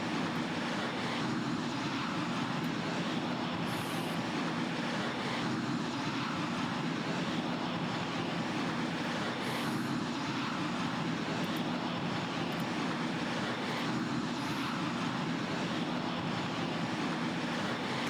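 Steady, even roar of a departing airliner climbing out of Naha in an air traffic control game, a constant broadband engine rumble holding at the same level throughout with no voices.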